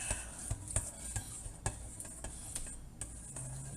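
A spoon stirring apricot preserves and Italian dressing in a container, quiet scraping with regular soft clinks against the sides, close up, with no talking.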